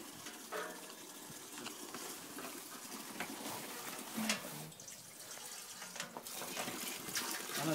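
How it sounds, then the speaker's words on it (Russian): Water pours into a 20-litre canister in a steady, hissing, gurgling stream that holds close and fairly loud throughout. "Ставим воду в канистру."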